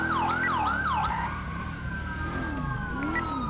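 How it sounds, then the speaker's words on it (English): Police car siren wailing during a pursuit in a police roleplay game, loud and close, sweeping up and down in fast repeated cycles before dropping into slower, lower wails. "Why are people not fucking listening to my siren?"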